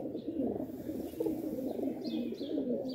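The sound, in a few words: pigeons cooing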